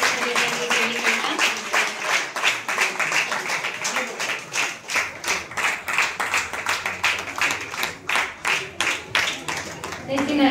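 Audience applause at a Brahmavar community talent award and Shravan flower puja ceremony, welcoming MLA Yashpal Suvarna: dense, loud clapping from a crowd, sustained for about ten seconds and alone.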